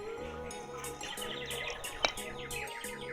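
A clay water-filled bird whistle from Gujarat, blown to imitate birdsong, gives a run of quick bright chirps and warbles at a trade fair, fairly close and clear over a low background hum.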